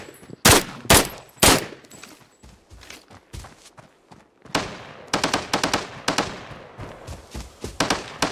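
Gunfire in the shooter game Arena Breakout: a few loud, sharp single shots, then scattered softer reports and a rapid run of quick bursts toward the end.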